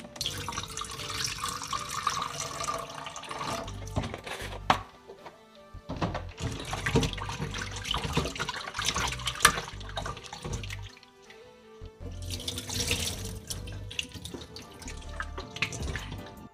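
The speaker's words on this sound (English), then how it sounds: "now I'm gonna wash our meat" Stew beef is rinsed under a running kitchen tap, water splashing and dripping continuously near the sink with brief pauses as the meat is handled, no one speaking.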